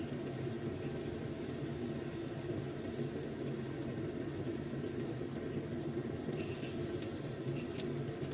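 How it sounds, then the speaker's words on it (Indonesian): Sliced sausage and carrot stir-fried in a pan, a steady soft sizzle and bubbling hiss continuing evenly, close but fairly quiet, with occasional light scraping near the end. "Lanjut kita tumis hingga sampai semuanya tercampur merata."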